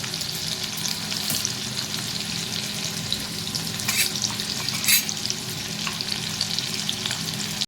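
Green chili and ginger stir-fried over high heat for Schezwan and Hakka noodles, a loud, fierce sizzle with brisk stirring and a few sharp bursts of crackle, close and continuous without talk.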